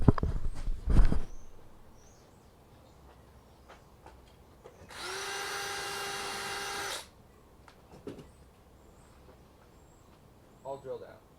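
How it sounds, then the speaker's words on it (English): A power drill fitted with a 1/8-inch bit bores a hole through the metal of a farm and garden cart, a single loud, steady whine lasting about two seconds between scattered handling knocks. "you have to drill your hole in the metal over here with a 1/8 drill bit"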